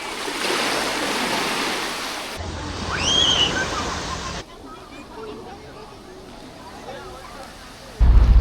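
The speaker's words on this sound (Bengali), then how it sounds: "পিছনে হচ্ছে এটা ছোট একটা বিচ, বিউটিফুল ভিউ" Waves wash steadily onto a small beach, a continuous broad rushing surf with wind buffeting the microphone, and voices talking over it.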